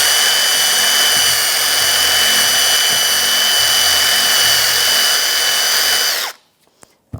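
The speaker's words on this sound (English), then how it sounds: "we're going to take a little bore wire brush and I'm going to bore out this cylinder to get all that cake" A drill spins a small bore wire brush inside a Toyota RAV4 front brake caliper cylinder, scouring out caked deposits. The loud, steady, close whirring and scraping runs continuously for about six seconds, then cuts off abruptly.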